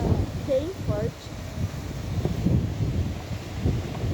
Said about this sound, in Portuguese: O vento tá bem forte.